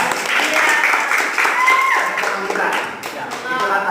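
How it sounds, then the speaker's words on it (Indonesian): A short burst of clapping from a group, fairly loud and close, with voices mixed in. "Tepuk tangan"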